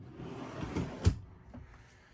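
A drawer in a 2022 Sunseeker Classic 3270S Class-C RV slides shut on a soft-close runner, ending in one muffled thump near the middle, with a faint settling sound after.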